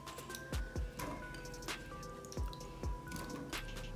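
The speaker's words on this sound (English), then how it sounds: "First thing, I add the green peas, then I add the chopped potatoes" Chopped potatoes and green peas drop into a pot of water to boil for pav bhaji, producing soft, irregular plops and splashes close by over a quiet background.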